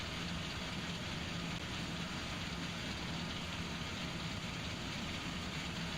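Tractor engine running steadily in Farming Simulator 17, a constant broadband mechanical drone with a dense, gritty texture, close and unchanging, heard alone without speech.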